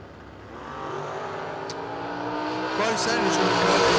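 Drag race cars launch and accelerate down the strip at a memorial race, engine roar climbing steadily in pitch and volume, heard at a distance beneath a commentator's continuous talk.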